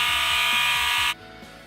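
A fire alarm blares in a continuous, loud electronic tone and then cuts off abruptly, leaving a fainter pulsing horn from other alarm devices during a New Year's alarm sound-off.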